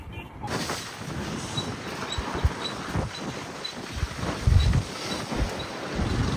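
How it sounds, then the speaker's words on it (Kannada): Strong wind roars against the microphone during a ride in the rain, a continuous rushing buffet with gusty low thumps, loud and close, with no talking. "ಫುಲ್ಲು ಗಾಳಿ ಗಾಯ್ಸ್, ಫುಲ್ಲು ಗಾಳಿ"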